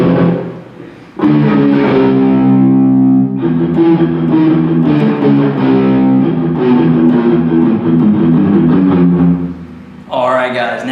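A distorted electric guitar plays a lick slowly during a lesson, sounding as loud, sustained, crunchy chugs and held notes that ring for several seconds before a brief pause and another note.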